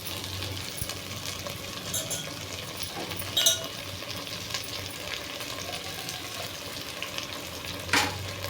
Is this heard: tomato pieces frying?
yes